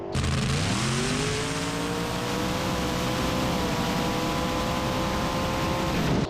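Drag cars launching off the line at a no-prep dragstrip, a loud engine note climbing steadily in pitch as the car accelerates away, steady roar with broad noise throughout, no voices.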